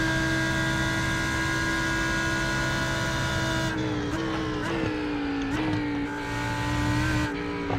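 A Lamborghini Huracan EVO GTE race car at night at Daytona in a racing video game, a steady loud engine drone holding a constant pitch, then dipping and climbing through several quick gear shifts.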